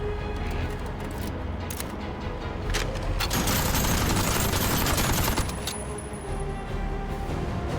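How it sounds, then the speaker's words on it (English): A Gatling gun fires in the video game Aether & Iron, a dense, loud, rattling barrage that swells mid-way and carries on with sustained crackle, alone without voices. "I can use the Gatling gun."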